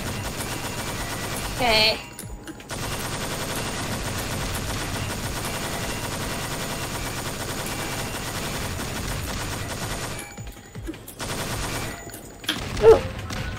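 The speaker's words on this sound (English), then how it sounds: "once it's more damaged, the machine gun will shoot faster" Video-game machine gun fire in Thing Thing 4 on hard mode, a dense continuous stream of shots running through most of the clip with brief gaps, with a short spoken word near the end.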